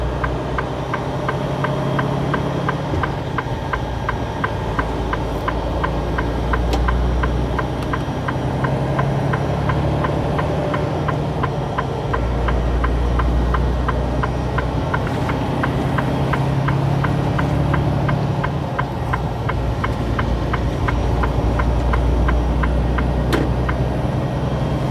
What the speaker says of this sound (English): You would hear a little more traffic sounds that way since it was facing the interstate.